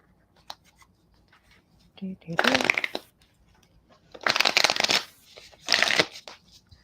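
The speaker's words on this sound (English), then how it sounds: "Okay, I'm going to pull some cards." Tarot cards shuffled before a reading, three crisp riffling bursts separated by quiet pauses, close and clear with faint handling taps between them.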